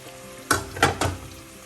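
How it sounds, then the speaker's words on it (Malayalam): Green chilli, tomato, shallots and curry leaves hit hot oil for a coconut fish curry, three sharp bursts of sizzling and scraping in quick succession over a quiet background. "അതിനുശേഷം അതിലേക്ക് പച്ചമുളക്, തക്കാളി, ചെറിയ ഉള്ളി, കറിവേപ്പില ചേർക്കാം."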